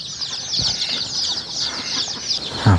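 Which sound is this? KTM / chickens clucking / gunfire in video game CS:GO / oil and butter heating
chickens clucking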